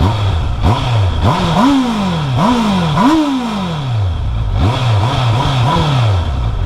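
A stock Honda CBR650R sport motorcycle engine with the factory exhaust revs repeatedly in sharp bursts, rising and falling several times, loud and close with no talking.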